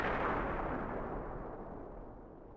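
A deep, booming explosion effect laid into a hip-hop beat, hitting loud at once and then trailing off in a long, rumbling decay, with no voices.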